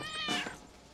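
A single cat meow, short and fairly quiet, rising and falling in pitch over under a second, heard alone against a faint background.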